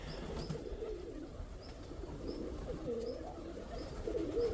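Pigeons coo softly and repeatedly against a steady background hum, with a few low throaty calls rising toward the end.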